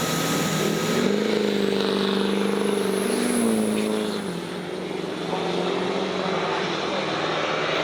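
Diesel trucks drag racing in a finals run: a loud, sustained engine roar with droning harmonics that holds steady, dips briefly, then carries on strongly.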